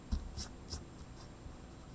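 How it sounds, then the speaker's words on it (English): Pencil eraser rubbing out a floor line on drawing paper for a one point perspective room, a few short close scrubbing strokes in a quiet room. "I'm going to erase the floor line right in between those door posts."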